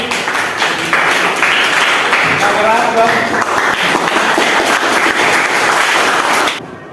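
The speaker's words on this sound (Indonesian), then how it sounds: "tepuk tangan dulu buat kelompok 1" Applause from a classroom audience for a student group that has just presented, a steady wash of clapping lasting several seconds with voices talking over it before it cuts off.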